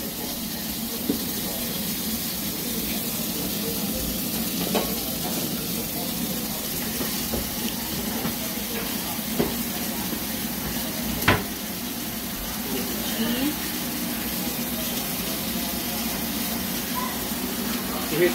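Butter melts in a pan over low heat with a soft, continuous sizzle and hiss, broken by a few light clinks of a utensil.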